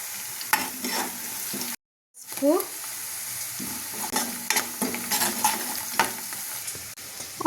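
Onions, cumin seeds and curry leaves fry in hot oil in a pan for an eggplant curry, giving a steady close sizzle broken by a short drop to silence, with scraping stirs and spatula clinks throughout.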